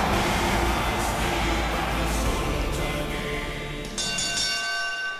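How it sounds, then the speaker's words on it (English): A wrestling ring bell rings at a CXWI Cup match, a sustained metallic ringing tone with lingering overtones heard loudly over steady crowd noise, then the ring trails off. "And there is the bell"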